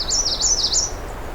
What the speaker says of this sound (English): It's black-throated blue warbler, or black-throated green warbler.